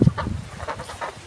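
Geese kept on a smallholding in Hungary give a few short honking calls, with a louder call at the very start and fainter, nearby cackles following over low background noise.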